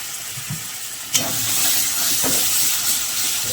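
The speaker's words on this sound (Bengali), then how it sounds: "মশলাটা ধরে যাচ্ছে নিচে, একটুখানি জল দেবো" Bengali fish masala for parda fish jhal fries in a pan. A sharp burst of sizzle erupts as water goes in, then settles into a loud, steady hiss and steam that continues alone.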